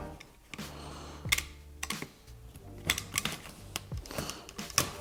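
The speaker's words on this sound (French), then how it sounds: "je coupe ma gaine" Sheathed electrical cable being cut during a light-switch install in plasterboard, a run of sharp snips and crisp clicks with small rustles between them, close and fairly quiet, no voices.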